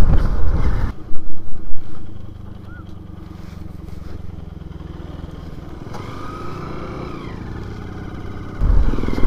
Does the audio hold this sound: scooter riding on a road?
yes